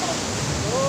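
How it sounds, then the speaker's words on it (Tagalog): Large waves crash and roar steadily at a fishing spot, a dense continuous wash of surf close by, briefly filling the scene with no voices over it. "Yung malalaki alon."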